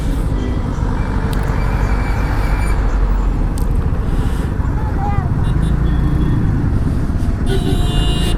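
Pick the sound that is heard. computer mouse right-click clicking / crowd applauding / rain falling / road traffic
road traffic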